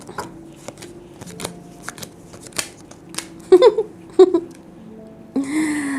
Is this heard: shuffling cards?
yes